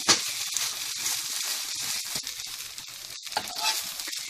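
Mutton kal dosa, a spiced egg-topped dosa, sizzles steadily on a hot griddle, a continuous bright frying hiss with a few soft scraping touches, close and alone without speech.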